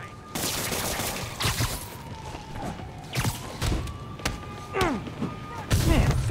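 Bursts of gunfire ring out in a Spider-Man video game, several sharp shots and thuds scattered across the scene beneath a steady background of game ambience and voices.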